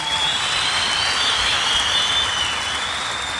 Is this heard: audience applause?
yes